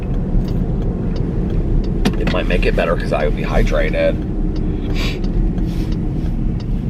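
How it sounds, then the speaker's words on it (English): Cars passing by along a road at a crossing in open country, with a continuous rushing engine and tire roar, heard close and loud beneath someone talking. "There's a lot of cross traffic out here in the middle of nowhere this morning."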